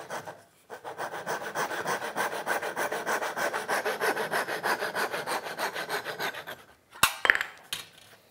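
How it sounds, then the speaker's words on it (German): Hand saw cutting off a protruding wooden dowel glued in place: brisk, rhythmic rasping back-and-forth strokes, close and continuous for several seconds, ending with a few sharp knocks and clatters. "Jetzt sägen wir natürlich nochmal unseren mit Kigoroshi versehenen Dübel ab."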